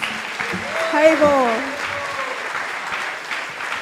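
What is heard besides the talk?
audience applause at ISKCON temple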